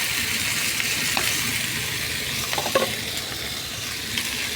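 Boiled potatoes fry and are stirred in a hot pan, making a continuous close sizzle with occasional scraping and clinking from the stirring utensil.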